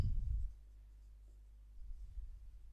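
A pen or chalk writes new lines of a physics equation, producing faint low scratching strokes at the start and again near the end, with a quiet pause between.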